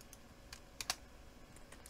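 Scattered, soft keystrokes on a computer keyboard while using VS Code, a handful of isolated taps ending with one sharper key press, no voices.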